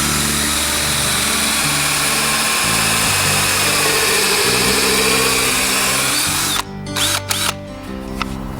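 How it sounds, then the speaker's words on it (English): A power drill boring into a concrete foundation whines loudly and steadily up close, its pitch shifting slightly as it bores, then stops and starts in short bursts near the end. "I'm going to drill down into my foundation where I want to screw in the eye bolt."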